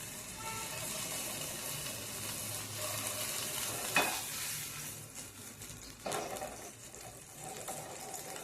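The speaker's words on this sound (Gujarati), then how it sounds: "ફ્રાય કરવા મૂકી દઈશું આ રીતે." Spinach momos fry in hot oil with a steady, fairly quiet sizzling hiss throughout. A couple of sharper crackles pop up along the way.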